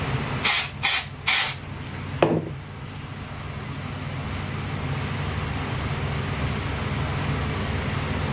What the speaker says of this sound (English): Do you use this Batiste dry shampoo? It smells like coconuts.